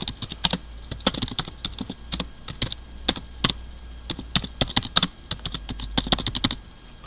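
Steady bursts of keystrokes on a computer keyboard, irregular clicks and clacks close by with brief pauses, no voices.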